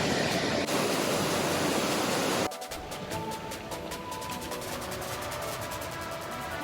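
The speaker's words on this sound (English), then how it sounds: "Nice little waterfall." A small waterfall beside a mountain trail in Oregon's Wallowa Mountains roars in a dense, steady rush. Partway through, the sound shifts to a slightly softer, more broken watery hiss, and no voices are heard.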